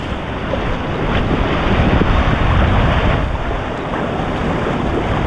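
Heavy surf pounds the shore at Bethells Beach at very high tide in bad weather, a continuous loud roar of crashing waves mixed with strong wind buffeting the microphone.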